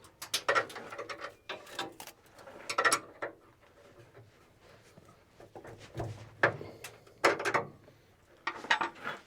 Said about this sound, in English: Then I'm going to take an 18mm wrench. I'm going to break loose both of my jam nuts on my stop bolts.